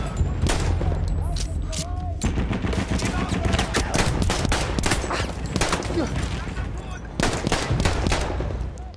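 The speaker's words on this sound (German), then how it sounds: "ich mache sie hier einfach alle mit der doofen Pistole platt" Rapid pistol shots and surrounding battlefield gunfire in the World War I shooter Battlefield 1, a dense, continuous barrage of sharp cracks and booms with occasional heavier blasts throughout.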